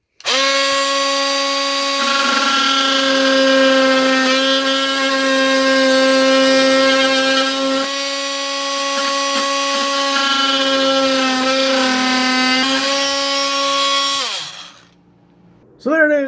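A SnapFresh cordless multi-tool cutting through pipe, a steady high-pitched motor whine held for about fourteen seconds with slight pitch dips under load before it winds down, then a brief restart.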